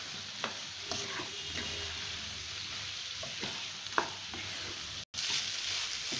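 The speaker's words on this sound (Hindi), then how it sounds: "इसमें ये गरम मसाला और ये सोया बड़ी डाल के इसको हम थोड़ा सा मसाला मिक्स होने तक पकाएंगे।" Soya chunks cooking in a pan with masala and garam masala, a steady broadband sizzle with occasional stirring scrapes and a brief clatter near the end, no talking.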